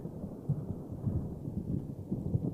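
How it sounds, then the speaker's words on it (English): Thunder from a lightning strike in the city-building game Cities: Skylines, a low, rolling rumble with soft irregular booms across the whole clip, heard alone without talk. "Ooh, we just had a lightning strike."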